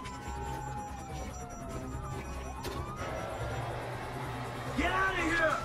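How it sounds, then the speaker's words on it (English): A police siren in Grand Theft Auto V wails, rising and falling in the distance under murmured speech and background noise, growing a little louder toward the end. "You hear that? Siren."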